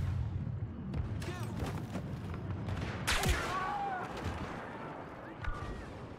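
Rapid battlefield cannon fire from a turret in Star Wars Battlefront 2 Galactic Assault multiplayer, heavy booming shots over a constant noisy din of explosions and distant combat, with a sharp louder blast partway through.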